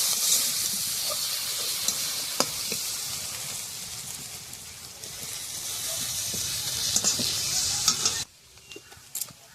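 Spices, including turmeric and ginger paste, sizzle steadily in hot oil in a small live puti fish curry on a wood-fired stove, with repeated stirring scrapes over a continuous hiss that drops away near the end.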